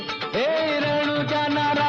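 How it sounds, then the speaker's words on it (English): Traditional-style bhajan devotional song with largely Indian instrumentation, a sustained melodic voice or drone line gliding up and holding steady over rich harmonic accompaniment, loud and continuous throughout. "That's a traditional style of bhajan with largely Indian instrumentation."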